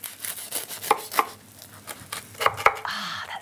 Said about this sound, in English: Let's slice in half and have a look.